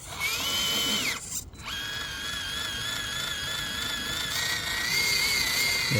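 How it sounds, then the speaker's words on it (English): An FCX18 K10 RC crawler's electric motor whines steadily as its wheels spin without grip in mud, a continuous high-pitched drive tone rising and falling slightly with a brief dip midway. "now our tyres, wheels are spinning on the tyres again."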